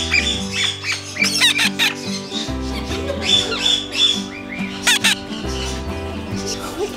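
A moustached parakeet squawks and chatters repeatedly at close range, harsh calls coming in quick irregular bursts with no talk over them.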